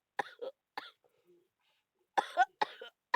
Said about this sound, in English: I still have the bad cough and colds again.